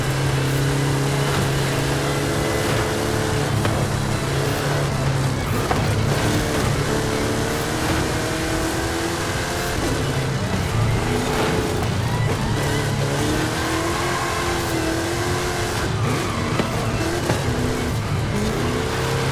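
Powerful supercars, a Lamborghini and a GTR, racing in a video game, engines droning and revving continuously with rising and falling pitch, loud and sustained throughout.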